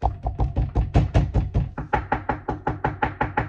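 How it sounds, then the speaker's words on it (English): A loud, rapid run of about twenty hard knocks bangs on a door in an even, driving rhythm, close and forceful, with a brief pause midway before the pounding resumes; no voices. "we get this loud bang on the door, like this"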